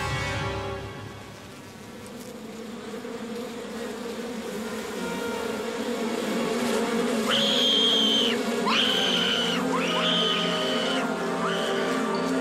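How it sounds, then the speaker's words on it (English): A swarm of bees buzzes in an island adventure video game, a steady drone over ambient game sound, with several short whistling chirps layered near the end. "The bees are probably designed to move as a swarm."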